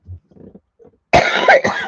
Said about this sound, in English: Y'all may get tired of listening to me cough.